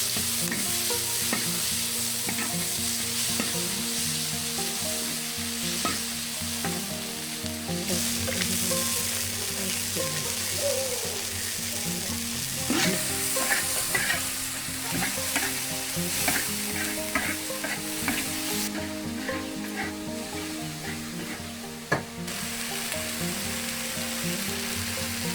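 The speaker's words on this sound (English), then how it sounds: "Now it was time to stir-fry the beef." Beef stir-fried in a wok over a firewood stove in a rural mountain kitchen, a loud continuous sizzle with frequent metallic scrapes and clanks of the spatula tossing the meat, close and busy, no speech.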